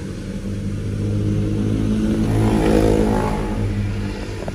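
A 2016 Daihatsu Sirion RS automatic city car with 118,000 km runs steady and close. Its low engine hum swells gently as the revs rise, then settles again.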